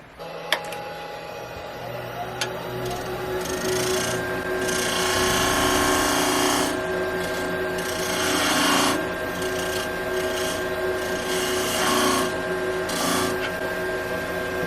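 Wood being turned on a lathe while shaping a leg with a slight taper for a Christmas ornament: a steady rasping, scraping cut with brief pauses, close and fairly loud, with some talk over it.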